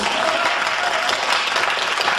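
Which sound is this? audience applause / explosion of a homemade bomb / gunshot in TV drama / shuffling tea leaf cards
audience applause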